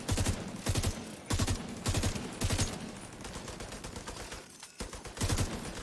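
Bursts of automatic turret gunfire in a shooter video game come in rapid repeated volleys of loud, sharp shots, separated by brief pauses with a lower rattle in between.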